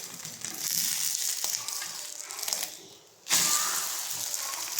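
An egg and Lays chips omelette sizzles steadily in a frying pan, then falls briefly quiet as it is flipped and returns to a loud, crackling fry.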